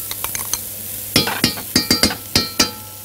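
Onion cooking in ghee (samna) for a meat torli tagine, with a spoon scraping and knocking the pan in six or seven sharp, close strokes over a soft sizzle, no talking.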